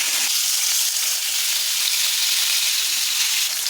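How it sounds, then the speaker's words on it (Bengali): Tilapia fish fry in oil in a wok, giving a steady, close, bright hiss and crackle of sizzling that holds evenly throughout, with no voices. "মাছটা ভেজে নেবো। কড়ার মধ্যে পরিমাণ মতো তেল দিয়ে দেবো। একে একে মাছগুলো দিয়ে দেবো।"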